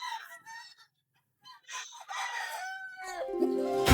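Chickens cluck nearby, then a rooster crows loudly and close at the end, rising over the softer clucking.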